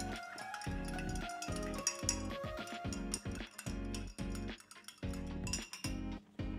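Glass cleaner solution with IPA being mixed in a container, a busy run of clinking and scraping knocks that comes and goes in short bursts, close and fairly loud, with no talking.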